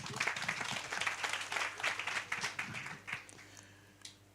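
A workshop audience on building multiple revenue streams gives a round of applause, fairly soft and moderately sized, growing more sparse with separate claps toward the end, over a low steady hum.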